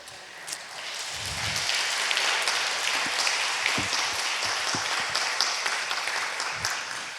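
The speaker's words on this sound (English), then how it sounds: "That deserves applause" Steady, dense applause from a large crowd at an anniversary celebration, sustained throughout with a few louder individual claps standing out.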